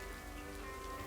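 Rain in the video game Lake: steady, even rainfall pattering on surfaces, faint and continuous with no other sounds.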